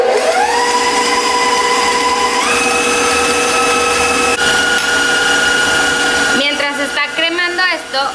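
A stand mixer beating butter and sugar whirs loudly and steadily, stepping up in speed twice, then cutting off as voices take over near the end.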